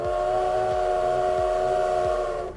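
A loud, sustained train whistle blares steadily over the rhythmic low clatter of the train rolling along the rails, with no talking.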